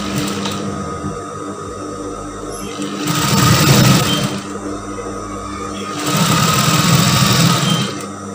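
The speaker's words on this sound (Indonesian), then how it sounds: "Kita jahit dengan lebar 1 cm." A sewing machine stitching the sleeve and lining of a brocade tunic, running in two loud, close bursts of steady mechanical whirring separated by quieter pauses with a faint hum.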